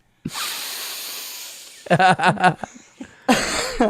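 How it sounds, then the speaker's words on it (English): Several sharp, breathy sniffs right up close to the microphone, coming in short bursts with brief pauses between them. "the move is sniff the mic"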